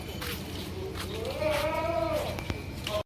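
A goat gives a wavering bleat in the middle of a noisy outdoor scene, with a few other sharp sounds around it.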